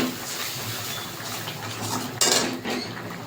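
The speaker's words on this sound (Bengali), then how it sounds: "বাটিটা ধুয়ে একটু জল দিয়ে দেবো, মশলার বাটিটা ধুয়ে" A spice bowl is rinsed and water is poured into it while a prawn malai curry is being cooked, giving close clinks and clatters of a metal bowl and utensils, with a brief louder splash and clatter burst near the middle.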